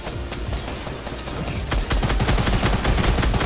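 Dense Fortnite gunfire, a fast overlapping stream of loud shots and bursts that grows heavier toward the end, with no voices over it.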